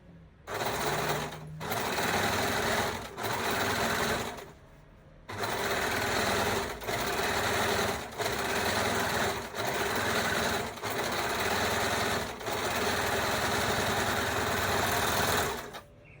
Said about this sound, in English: So we finished serging our skirt for now.